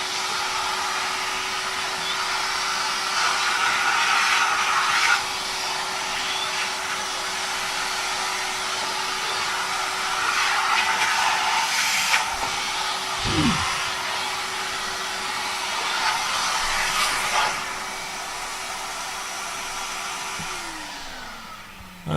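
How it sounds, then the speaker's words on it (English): A shop vacuum hoovers debris off the bed of a CNC milling table, a steady loud whooshing drone that runs for most of the stretch before winding down near the end, with no talking. "I'm going to turn the vacuum on now"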